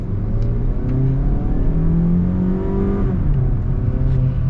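A 2022 Mazda 3 hatchback with a naturally aspirated engine accelerates in sport mode, the engine note loud and close, climbing through the revs, easing at a shift, then rising again without a break.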